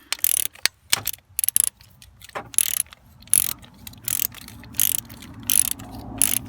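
A hand ratchet tightens an injector bolt into the cylinder head of a Mercedes Sprinter 311 CDI, giving close, crisp bursts of rapid clicking in irregular strokes with short pauses between them and no talking.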